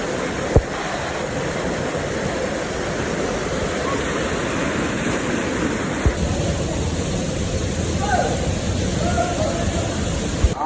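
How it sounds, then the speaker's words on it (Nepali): Kholung waterfall roars as a constant heavy rush of falling water. It is loud and close, with faint human sounds and a few sharp knocks underneath. "यसरी धेरै मान्छेहरू आउँदो रहेछ यो झर्नामा"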